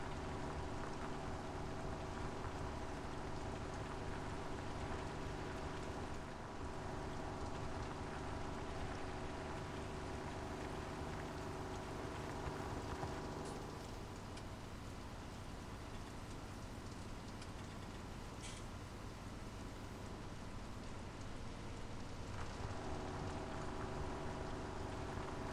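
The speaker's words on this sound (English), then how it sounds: "I think the rain is easing off, and lo and behold, it's stopped" Steady rain falling outdoors, a constant faint hiss with scattered drop impacts over a low hum, thinning slightly midway before continuing.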